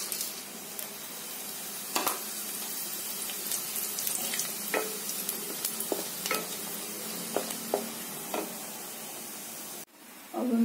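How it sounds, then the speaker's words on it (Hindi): Whole spices sizzling in hot oil for masala paneer, a steady soft frying hiss with scattered crackles and pops, fairly quiet, ending in a sudden louder shift near the close. "हमारी तेल हीट हो चुकी है, अब हम इसमें डालते हैं खड़े मसाले"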